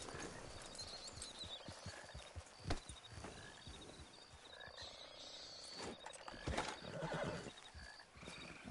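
A horse whinnying along with faint clip-clopping hooves in the Red Dead Online video game, distant and fairly quiet amid outdoor ambience, with a louder neigh standing out briefly.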